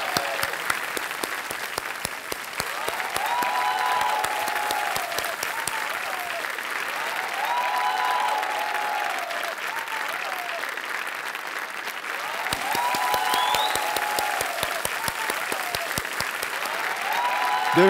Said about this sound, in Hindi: देखिए सब लोग ताली बजा रहे हैं आपके लिए